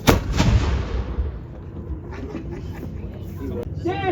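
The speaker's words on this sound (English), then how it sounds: "that gun was used to fire at the opposing forces' artillery carriages" A reenactment cannon fires at an outdoor historical battle event, one loud booming blast at the start with a long rumbling decay and faint crowd sounds afterward.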